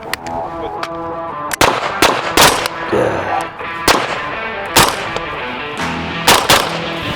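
Rifle shots fired outdoors in freezing conditions, a string of sharp, loud cracks at irregular intervals with brief pauses between them and faint voices in the background.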